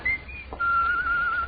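A man whistles a steady sustained tune as a killer in an old radio crime drama, one short high note and then a long held wavering note, close and clear over a faint hiss.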